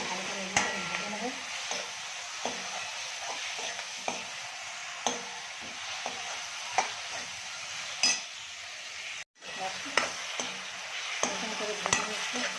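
Chilli chicken with garam masala fries in a pan with a steady sizzle, while a utensil scrapes and stirs in repeated light clicks and knocks near the mic.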